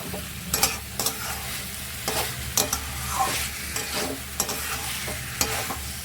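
Chicken pieces frying with ginger and spices in a pan for chicken kosha, a steady close sizzle broken by repeated scraping stirs at irregular intervals.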